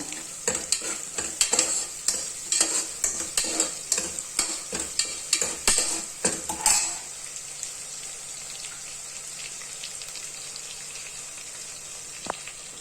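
Onions and green chillies frying in melted butter for avarekalu usli: about seven seconds of rhythmic stirring scrapes over the pan, then a steady, soft sizzle continues alone with a single tap near the end.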